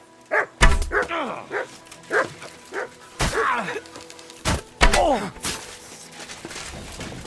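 Mutt the dog barks repeatedly in Kingdom Come: Deliverance II, sharp close barks and yips in an irregular burst amid combat thuds and groans.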